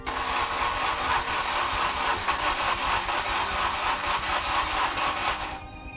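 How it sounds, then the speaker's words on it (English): A Honda K-series engine swapped into an Acura RSX runs at a rough, steady idle, loud and close, before cutting out abruptly. "Yeah, it starts to catch."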